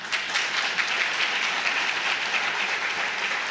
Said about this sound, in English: You're clapping.